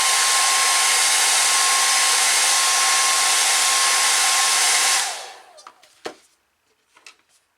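Hair dryer drying wet paint on a bowl-shape painting, blowing loudly and steadily for about five seconds before switching off, followed by a few faint knocks and clatters.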